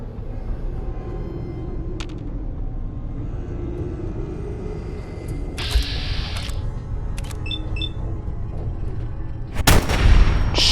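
Gunfire during combat in Fallout 4 at Vault 75, a few scattered sharp shots over a rumbling background, ending in a louder, heavier burst.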